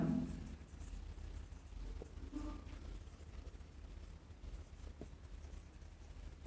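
Someone writing a maths question on a board, a dry scratch-and-tap of strokes in short bursts with small pauses, close by and fairly quiet over faint background noise.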